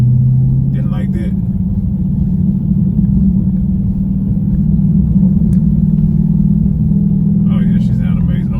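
A car exhaust with a mid muffler delete gives off a loud, deep droning note that holds fairly steady and close throughout, with faint higher noises now and then.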